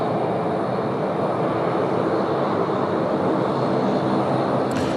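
A Dash 8 turboprop passes at Sydney Airport in windy weather, giving a continuous close engine drone with a dense low rumble that stays level throughout and ends with a short sharp sound.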